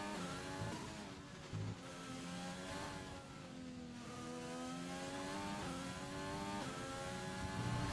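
A McLaren Formula 1 race car engine from the F1 2020 racing game, approaching turn 11 at the Hungarian GP, screams steadily through its gears with rising and falling pitch shifts and a loud, continuous whine.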